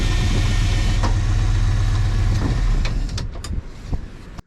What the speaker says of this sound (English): Oh, I need the truck running.